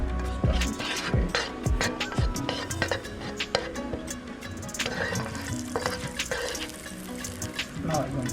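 Butter sizzles and crackles in a pan for an egg and potato pizza, with scattered pops and scraping stirs over a soft frying hiss, close by.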